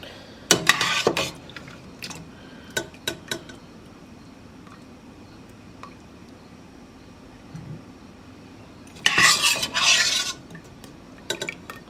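A slotted spoon clinks and scrapes in a bowl as pickles are scooped from their liquid, with short bursts of metallic taps and a longer wet rattling passage near the end, otherwise quiet.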